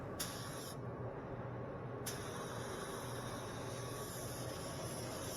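An Aeropro A/610 spray gun, fan set about a quarter turn from wide open, lays light coats of Finish 1 clear in a steady, close hiss that stops briefly and then resumes.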